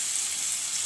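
Garlic sizzling in hot oil in a wok while water spinach is being fried, a brief, even hiss with fine crackle, close but fairly soft.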